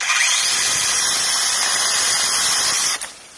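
A Troozy 6-inch electric mini chainsaw cuts through a tree limb with a steady high-pitched whine that holds loud and even for about three seconds, then cuts off abruptly as the motor stops.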